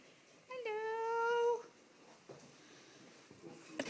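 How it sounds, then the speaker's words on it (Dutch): A nervous house cat in a kitchen gives one clear, drawn-out meow, close and fairly faint, followed by quiet room noise and a few soft bumps. "Nerveuze kat."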